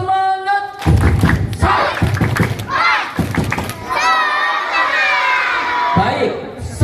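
Schoolchildren at a school religious celebration perform a spirited clap-and-shout chant, loud rhythmic group clapping and thumps followed by excited shouted voices, close and energetic, with an adult voice leading.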